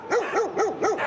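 Dogs barking in a deserted street of Kherson, a frontline city, with four evenly spaced barks about a quarter second apart, close and fairly loud with no talking.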